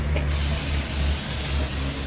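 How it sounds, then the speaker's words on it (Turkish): Brake cleaner spray is blasted from an aerosol can onto a rear drum brake, giving a steady, loud, continuous hiss that runs unbroken through the whole span without any talk. "birkaç tane balata spreyinin püskürtmesini, temizlemesini sınayacağız"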